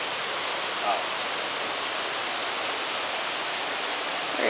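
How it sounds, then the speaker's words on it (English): A jungle waterfall roars as a steady broadband rush of falling water, close and constant throughout, with a faint voice briefly audible beneath it. "Oh, waterfall."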